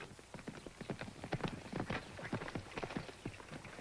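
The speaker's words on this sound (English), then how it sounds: "Hey, now, there's a real horse." A stallion's hooves clip-clop in an uneven walking rhythm, a series of hollow knocks heard at moderate distance over a soft background hiss.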